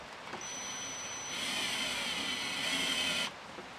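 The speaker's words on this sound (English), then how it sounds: "Then we can tighten that screw." A screw tightened into a Keter High Store plastic shed panel with a power driver, a steady high whirring hum that grows louder midway and then stops abruptly, close by with no talking.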